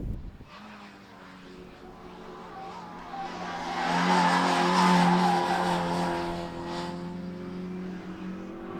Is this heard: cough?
no